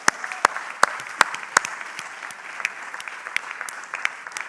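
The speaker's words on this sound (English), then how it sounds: "let's give a big round of applause to the students that are graduating with the MBA postgraduate diplomas" Graduation ceremony audience applauding students receiving MBA postgraduate diplomas, a sparse run of individual claps from a thin crowd, crisp and moderately close, with no talk.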